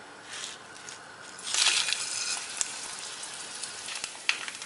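Mustard seeds, fenugreek and dried red chillies drop into hot oil left from frying aubergine. The oil bursts into a close, crackling sizzle, with sharp pops as the seeds spit.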